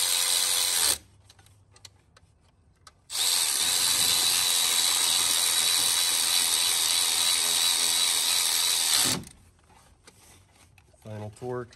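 A wrench ratchets with fast clicking bursts while the alternator bolts on a 2.0T Audi/VW engine are brought to final torque; two loud sustained stretches are separated by quiet pauses, close up.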